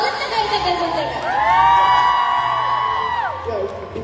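A crowd at a fan meet in Malaysia whoops and cheers for the entire team of Must Date The Playboy, with rising shouts and a sustained swell of voices in the middle that fades toward the end.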